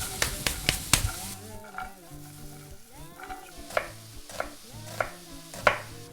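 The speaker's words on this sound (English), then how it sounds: "Onion in a pan" Onion frying in a pan with butter and oil, a steady sizzle beneath repeated close utensil clinks and scrapes as it is stirred, with a few sharp knocks early on.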